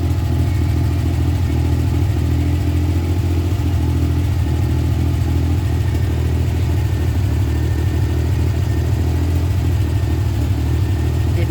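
The engine of a Suzuki Multicab idles steadily after fresh rewiring while under checks for overheating and a faulty tachometer, a close, continuous low rumble with no revving.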